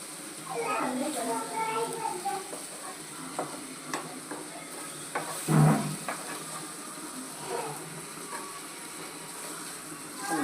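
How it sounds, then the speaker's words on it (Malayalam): Fish coated with pepper, ginger and garlic fries in a hot pan, giving a steady close sizzle with occasional stirring scrapes while a person talks over it. "നമുക്കൊരു മീൻ അങ്ങോട്ട് പെറുക്കിയിടാം"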